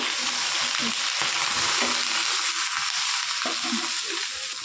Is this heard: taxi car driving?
no